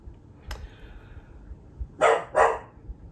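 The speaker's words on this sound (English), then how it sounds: "I think my puppy's going to start barking." A puppy gives two short, close barks in quick succession, with a single faint yip just before them, in a quiet indoor room where construction work is going on across the road.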